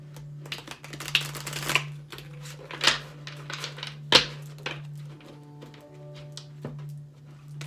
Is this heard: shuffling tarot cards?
yes